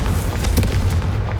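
Confringo blasting spell explosion in Hogwarts Legacy, a loud, dense burst of booming, crackling energy lasting over a second with no gap.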